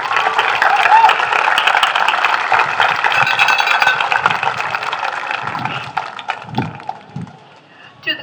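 A commencement audience applauds the educators at a 2023 Fremont Ross graduation, sustained dense clapping from a large crowd that gradually thins and tapers off into scattered claps.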